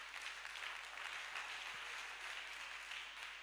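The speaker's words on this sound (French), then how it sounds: "est-ce qu'on peut acclamer le Seigneur pour sa vie?" A church congregation at a youth camp applauds and cheers for the Lord in one steady wash of clapping, fairly faint and distant, with no talk over it.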